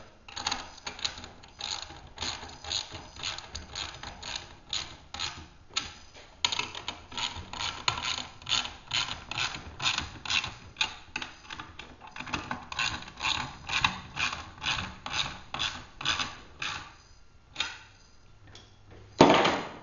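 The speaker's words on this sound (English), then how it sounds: "you can tighten up the lower Y-handle bolts that you installed loosely earlier." The lower Y-handle bolts of an Aurora magnetic sweeper are tightened with a ratchet, giving quiet, close bursts of rapid clicking that repeat steadily throughout, with no talking.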